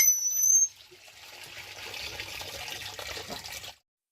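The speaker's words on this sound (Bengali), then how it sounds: "এখন আমি জল দিয়ে ভালো করে একে একে মাছগুলোকে ধুয়ে দিই" Running tap water splashes over cut pieces of bhola fish being rinsed, a steady close wash of water that follows a brief louder gush at the start.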